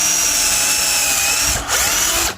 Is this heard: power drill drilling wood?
yes